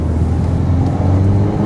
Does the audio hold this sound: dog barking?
no